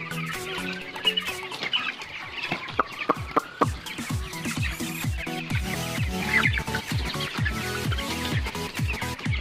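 Dense clucking and chirping from a large flock of 21-day-old broiler chickens in a poultry house, steady and close throughout with many overlapping calls.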